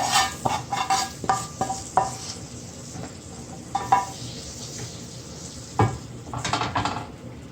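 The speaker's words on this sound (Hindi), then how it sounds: "अब इसमें अपना तड़का डाल देते हैं।" Hot oil sizzles and crackles as tempering spices hit the pan for masoor dal, with scattered clinks and stirring scrapes of a utensil against metal throughout.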